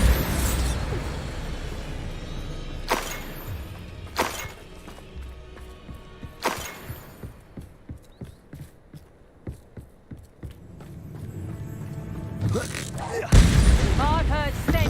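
Several sharp explosive blasts from the Bombarda spell in the video game Hogwarts Legacy, loud booming bursts spaced a few seconds apart among clattering combat sounds, with a final heavy burst near the end.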